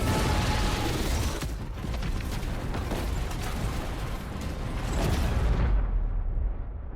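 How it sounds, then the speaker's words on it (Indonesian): A ship explodes in an action film, heard as a dense, sustained roar of rumbling blast and crackling debris that churns steadily for several seconds before the high end drops away into low rumble. "kalau virusnya dimatikan, kapalnya akan meledak dan ini yang terjadi"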